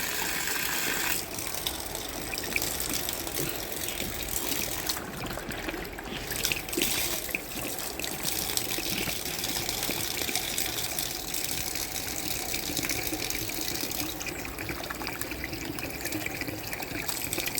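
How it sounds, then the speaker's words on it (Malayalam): Steady rushing water pours continuously from a filter pipe during a backwash, a dense close gushing noise with faint mechanical rattling underneath, no voices. "ഇത് ഫിൽറ്ററിൽ നിന്ന് വരുന്ന വെള്ളം"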